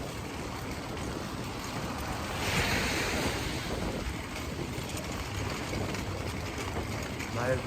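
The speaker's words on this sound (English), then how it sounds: "We can hear the ocean." Ocean waves surf on a beach in San Francisco, a continuous wash of roaring, hissing water mixed with wind buffeting the microphone, one swell peaking near the middle.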